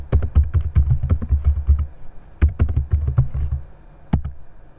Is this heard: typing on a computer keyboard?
yes